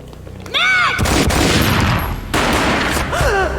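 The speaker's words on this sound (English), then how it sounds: "A gunshot boomed and she fell down in slow motion." Gunfire in the video game Max Payne: a sustained burst of loud, booming shots in rapid succession, with a short gap and then more heavy firing, mixed with game effects.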